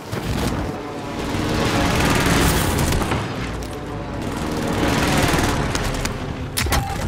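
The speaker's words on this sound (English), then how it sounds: "allied precision airstrike incoming" Allied precision airstrike explosions in a multiplayer shooter game: a dense, sustained roar of blasts and rattling fire swelling and easing across the stretch, loud and close, ending with a few sharp bangs.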